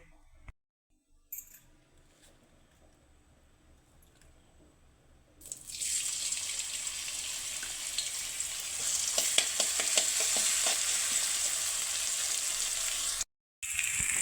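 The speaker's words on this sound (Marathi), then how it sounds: "लगेच कडाई तेल टाकून मिरची परतून घेऊया" Green chillies sizzle and crackle loudly in hot oil in a kadai, starting abruptly after a few seconds of near silence and continuing as a steady bright hiss with small pops, with a brief cut near the end.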